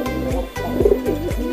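Young pigeons coo close by in a loft, a soft repeated rolling coo in three or four quick phrases with no talk.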